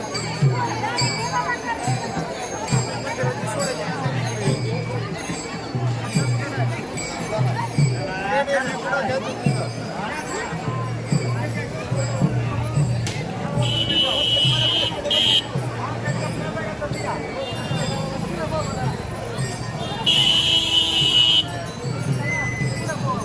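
A dense crowd of pilgrims at the Pandharpur temple makes a continuous murmur of voices and shuffling. Brief high electronic beeps sound now and then, and someone speaks over the noise.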